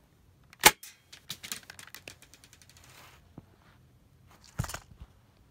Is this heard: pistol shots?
yes